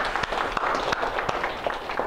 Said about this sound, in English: So let's give these guys a little round of applause